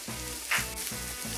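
Onion with a pinch of salt frying in a pan for shakshuka, a steady close sizzle that flares briefly louder midway as the ingredients hit the hot oil, with low pan clatter underneath.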